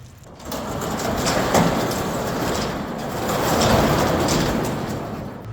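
Ford Ranger pickup truck rolling into a shop, a loud, steady broadband rumble that swells slightly midway and holds without talking.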